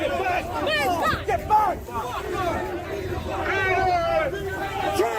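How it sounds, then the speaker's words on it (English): A protest crowd erupts in loud, overlapping shouts and hostile jeers of rejection, a dense hubbub with one voice barking a command near the front. "the audience finally broke their silence, and it wasn't applause they offered, it was sharp rejection"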